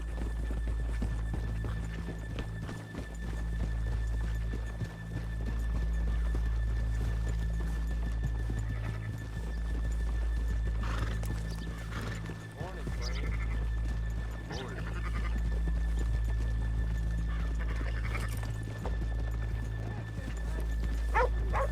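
Horses' hooves clip-clop steadily over a constant low rumble, with a horse whinnying now and then and voices talking throughout.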